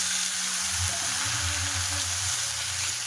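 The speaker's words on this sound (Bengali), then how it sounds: "এই যে সবজিটাও কাটা হয়ে গেছে তেলের উপরে দিয়ে দেবো" Cut vegetables fry in hot oil with a steady, dense hiss and crackle, over a faint low hum, with no one talking.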